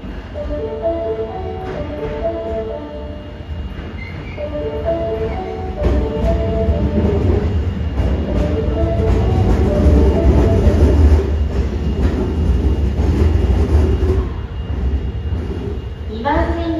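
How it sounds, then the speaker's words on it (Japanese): An Osaka Metro Tanimachi Line 32 series subway train rumbles loudly into a station platform, the roar building and holding, while a recorded station announcement plays over it. "安全に当駅止まりの電車が到着します。"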